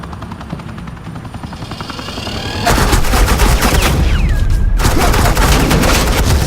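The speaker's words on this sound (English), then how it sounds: "Suppressing fire." Suppressing gunfire in the Batman: The Enemy Within video game, rapid bursts crackling over a helicopter's chopping drone, starting quieter and jumping abruptly louder midway, then continuing as dense sustained fire.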